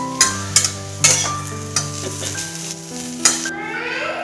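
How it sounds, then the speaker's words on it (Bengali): Potatoes frying in a pan on a home stove, a steady sizzle broken by sharp scraping stirs of the spatula at a close, moderately loud level, with no talking. "আর এখানটাতে দেখুন আলু ভাজাটাও কিন্তু হয়ে গেছে প্রায়"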